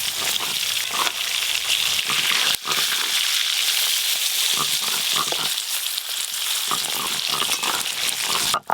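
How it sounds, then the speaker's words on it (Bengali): Hilsa fish frying in oil crackles loudly and close up, with dense popping spatter and uneven bursts throughout and a few sharp knocks in between. "এই মাছগুলো একই রকম ভাবে ভেজে নেব।"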